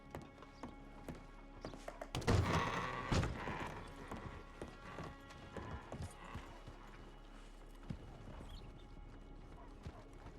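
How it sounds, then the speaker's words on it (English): Horse hooves clip-clop in a western roleplay game: scattered, uneven hoof falls with a louder, busier cluster early on, then lighter intermittent steps and knocks against a steady background. "sorry, this horse has a mind of its own."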